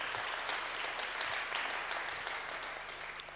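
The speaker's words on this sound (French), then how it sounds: "Donc vous avez Mehdi Bagdad, Artem Lobov, on peut du coup les applaudir, Mehdi Bagdad." Steady applause from an audience at a mixed martial arts press conference, a continuous dense wash of clapping that stays fairly even in level throughout, with no talk over it.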